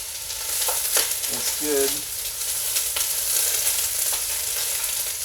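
Onions frying in a pan give a steady sizzle with a few stirring scrapes, while a person speaks briefly over the cooking.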